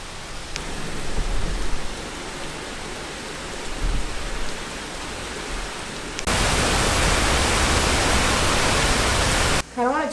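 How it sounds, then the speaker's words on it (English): Heavy rain falls outside an apartment as a dense, loud, continuous hiss that grows stronger midway and stays steady, with a brief dip just before the end. "Whenever it rains like this"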